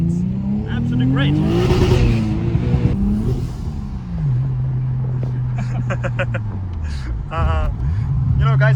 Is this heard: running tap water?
no